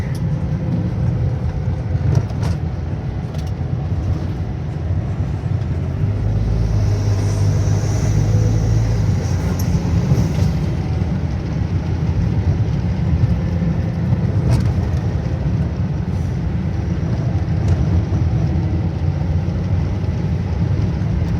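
Inside a car while driving, a steady low rumble of engine and road noise fills the whole stretch, loud and continuous, with a slight swell in the middle. No talking is heard.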